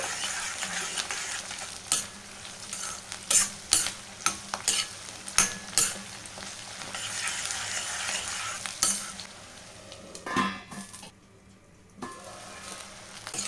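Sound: onions and curry leaves frying for chicken

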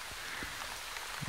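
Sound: light drizzling rain

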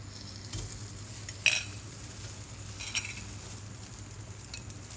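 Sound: rice cakes cooking in pan

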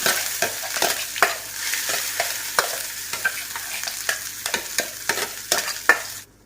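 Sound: curry leaf paste being sautéed in oil

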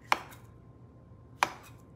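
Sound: rough chopping food with a knife for berry trifle

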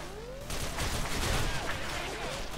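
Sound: gunfire in the video game S.K.I.L.L

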